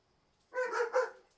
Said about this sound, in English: And of course, the dog's gotta be barking.